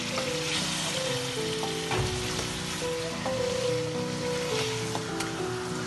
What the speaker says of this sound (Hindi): अब मैं इसमें ये चिकन डालने लगी हूँ।